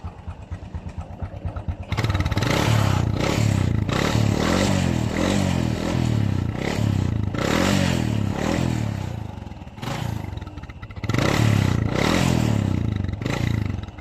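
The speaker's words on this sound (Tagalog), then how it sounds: "Panlarin natin para makita nyo ang problema ng kanyang makina" A Honda XRM 125 carbureted motorcycle engine that burns oil starts up after a quiet idle-like lead-in, then runs loud and close with repeated rhythmic revving bursts and brief dips.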